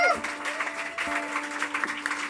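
Concert crowd at a student club in Ilmenau breaks into applause, a dense patter of clapping with faint sustained tones ringing underneath.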